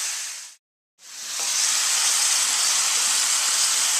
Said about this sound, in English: I'm going to take some of this red wine and just kind of deglaze